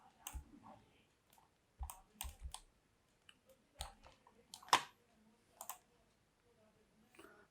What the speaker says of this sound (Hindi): आप यहाँ क्लिक करेंगे, फिर आपने यहाँ क्लिक किया